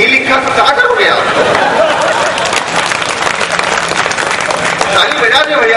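Applause from an audience at a Hindi speaking event, a dense steady patter of clapping running throughout at close range, mixed with crowd chatter and a few chuckles.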